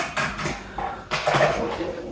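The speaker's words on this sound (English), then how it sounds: "I am just gonna use a knife" A kitchen knife slices through rolled cinnamon roll dough for vegan cinnamon rolls, giving a few soft scraping and tapping cuts against a board in quick, uneven strokes, close and fairly clear.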